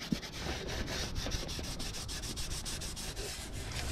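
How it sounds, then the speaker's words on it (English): A hand scrubbing pad rubs back and forth across a Duramax engine block deck during a head gasket job, a steady close abrasive rasp with no talking. "You're just cleaning off what the scraper didn't get."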